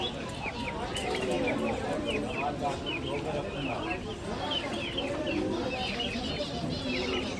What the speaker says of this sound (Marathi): हे बघा कशा कोंबड्या बिंबड्या.